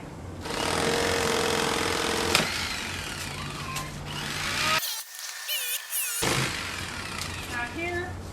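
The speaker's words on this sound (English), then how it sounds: "I can just curve that, smooth it out with the electric knife" An electric knife buzzes steadily as it saws through a foam headstone, its motor drone dropping out briefly before resuming in close, continuous cutting.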